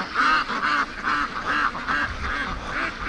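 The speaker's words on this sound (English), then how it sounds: "Okay, ducks, wrong direction." Free-range ducks quack steadily while foraging, a close, loud run of rhythmic nasal calls repeating about twice a second with no talking.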